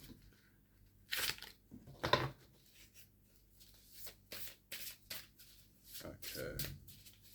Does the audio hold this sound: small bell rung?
no